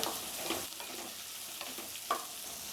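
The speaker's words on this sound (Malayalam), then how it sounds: "ഈ ചെറിയ ഉള്ളി ഇനി നല്ലതുപോലെ വഴണ്ടിട്ട് വരണം" Small onions sauté in oil in a pan, a faint, even sizzle broken by a few soft spatula scrapes, heard up close and quietly with no speech.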